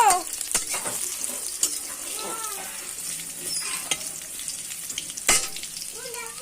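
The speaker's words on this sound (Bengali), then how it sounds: "রসুনটাই যে একটু ভাজা ভাজা হবে" Garlic frying in oil gives a close, steady sizzle with sharp stirring scrapes and pops at irregular moments, while a soft voice occasionally sounds underneath.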